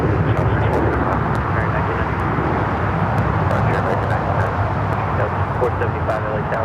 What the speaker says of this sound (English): the 777 lined up, ready to go here on the south side